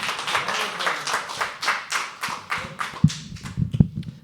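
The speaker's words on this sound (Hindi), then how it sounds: "Come on, start clapping." Audience at a live poetry open mic claps steadily for several seconds, a close crowd of hands that thins into a few scattered claps at the end.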